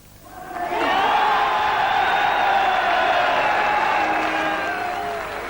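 Leeds United football fans at Elland Road cheering to welcome back David Batty, a loud sustained crowd roar rising quickly and holding steady, with whoops and shouts over it.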